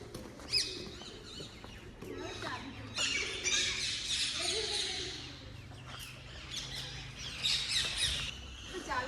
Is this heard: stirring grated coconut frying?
no